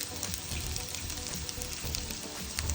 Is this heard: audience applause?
no